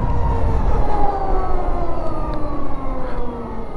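A police car siren wails nearby, loud and continuous with a slowly falling pitch as it passes, over steady road and engine rumble, with no voices.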